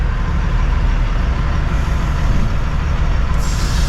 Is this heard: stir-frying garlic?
no